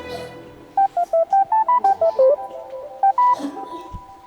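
Telephone keypad tones as someone dials a number: a quick run of about ten clipped beeps at shifting pitches, a short pause, then two more tones, clear and close over a faint background.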